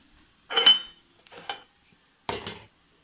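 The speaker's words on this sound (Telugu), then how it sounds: "ఇందులో మీల్ మేకర్ వేసుకుందాము" Boiled soya chunks (meal maker) tipped into a cooking pan for a curry, giving three separate clattering, clinking bursts with quiet pauses between them, close and fairly soft.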